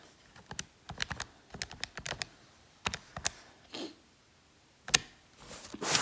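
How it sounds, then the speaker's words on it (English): A calculator's keys being pressed in quick, close taps that come in short bursts and pauses, fairly faint with no talking. "this is specifically what I'm going to type into my calculator"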